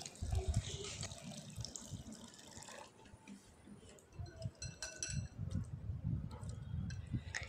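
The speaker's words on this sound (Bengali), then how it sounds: "চিড়েটা আমি জল পাল্টিয়ে ভালোভাবে ধুয়ে নেব।" Flattened rice (chira) is rinsed in a bowl with changes of water, giving close splashing and sloshing with running tap water, light clinks of a dish and scattered drips.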